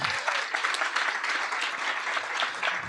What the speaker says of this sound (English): let's give a round of applause for the food we just had